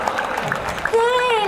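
Concert audience clapping and cheering at a packed outdoor stage show, a steady crowd wash that swells into sustained shouts and whistles in the second half, with a voice briefly heard over it.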